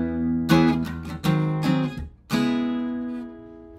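Acoustic guitar chords from a song, using a barre shape and sliding fingers, strummed in a few quick rhythmic bursts before a final chord rings out and fades.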